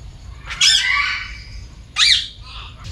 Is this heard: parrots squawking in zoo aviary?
yes